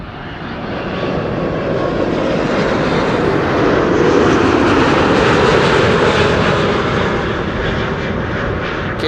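A KLM airliner arriving at Amsterdam Schiphol Airport produces a loud, continuous broadband engine roar, swelling slightly at the middle of the pass and staying steady throughout, with no talking.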